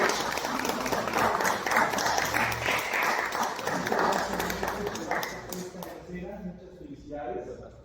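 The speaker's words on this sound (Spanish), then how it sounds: "Nuevamente le damos un fuerte aplauso al maestro Alfonso Martínez" Audience applause for a maestro at a cultural house, dense clapping that holds steady for about five seconds, then fades out as a voice starts speaking.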